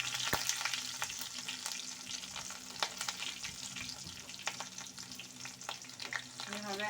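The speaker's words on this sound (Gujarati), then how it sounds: "રાઈ ગરમ થઈ જાય ત્યારબાદ આપણે તેમાં થોડા તલ, હિંગ અને લીલા મરચાં એડ કરીશું" Mustard seeds, sesame seeds, asafoetida and green chillies sizzle in hot oil as a tempering for khandvi, a steady close-up crackle with scattered sharp pops throughout and no voices.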